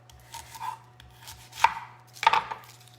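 A knife halves fresh Brussels sprouts on a cutting board: a handful of crisp, separate chops, close and clear, with the last few strokes louder and quicker, and no voices.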